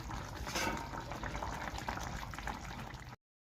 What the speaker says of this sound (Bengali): জল দিয়ে দেওয়া হচ্ছে।